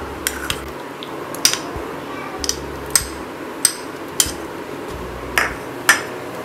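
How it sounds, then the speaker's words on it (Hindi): Fresh strawberries drop one by one into a mixer-grinder jar for a milkshake, each landing as a light knock or clink on the jar, about nine at irregular intervals over a low hum, nearby and fairly clear. "तो एक ग्राइंडर में मैं स्ट्रॉबेरी ले लेती हूँ।"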